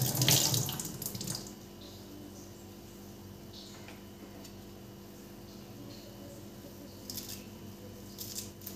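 Tap water runs into a kitchen sink while fresh coriander leaves are rinsed, a louder splashing burst at the start settling into a steady, moderate flow with small clinks.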